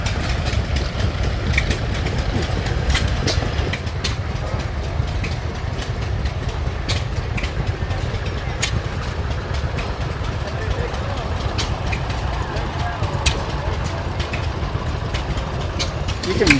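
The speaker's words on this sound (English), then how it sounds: "orchard sprayer." An old orchard sprayer engine runs at the Midwest Old Threshers Reunion farm show in Mt Pleasant, Iowa, idling in a steady low chug with faint ticks on top, while people talk nearby.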